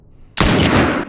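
A single loud sniper rifle shot in The Last of Us bursts in suddenly after near silence, a sharp blast followed by a sustained broadband roar that fades slowly.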